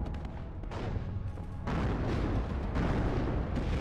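Heavy cannon fire from T-80 tanks in the WARNO wargame, with dense booming blasts that roll into a sustained, loud barrage of overlapping explosions.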